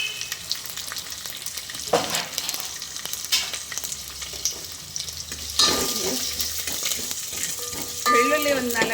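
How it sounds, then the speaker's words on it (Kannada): Curry leaves dropped into hot oil with mustard seeds and crushed garlic for a tempering, a close steady sizzle that flares into louder bursts of spitting and crackling as they hit the oil, with faint watery clatter and no voices. "ಕರಿಬೇವು ಹಾಕ್ತೀನಿ"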